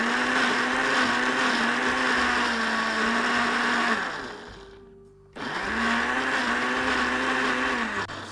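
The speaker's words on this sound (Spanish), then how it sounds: "Encendemos nuestra licuadora y pulsamos." A blender pulses at full power in two long bursts, cutting out briefly in the middle before revving back up, loud and close, while blending zucchini pesto.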